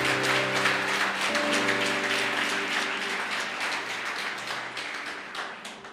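A church congregation applauds during a worship service, a dense, steady wash of many hands clapping that stays fairly even and slowly thins, with a sustained musical tone held underneath.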